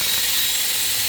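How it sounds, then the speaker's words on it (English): A soft-bristled wire wheel spun on a drill at high speed scrubs aluminum gasket surfaces on an old KX80 engine, a steady loud hissing whir with no pauses and no talking. "For aluminum, I like to go with a wire wheel, a softer bristled one on a drill on high,"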